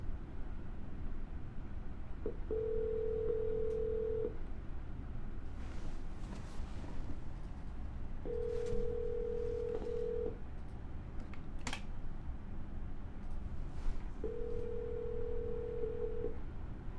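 Telephone dialing tones on a call line, three sustained steady beeps spaced several seconds apart over a faint background hiss, with no talking.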